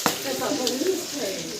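Papad frying in hot oil in a home kitchen, giving a steady crackling sizzle that runs throughout the short stretch, close by, with faint talk in the background.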